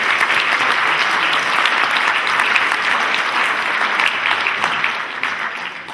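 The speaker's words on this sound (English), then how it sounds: "Please give everybody a round of applause." Audience applause at a 2016 county candidates forum in Bonner County, a steady wash of many hands clapping at even loudness for about six seconds, slowly easing near the end.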